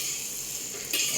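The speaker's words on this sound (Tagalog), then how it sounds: "Tapos igigisa ko rin dito yung sibuyas." Onions sautéing in a pan while cooking tom yum flavour fried rice: a steady, soft sizzle runs throughout, swelling a little louder near the end, with no voices.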